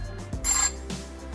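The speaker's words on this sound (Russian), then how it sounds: "Ой, папа звонит." A Wonlex GW100 kids' GPS smartwatch sounds a short, bright electronic ringtone for an incoming call, heard close up and on its own.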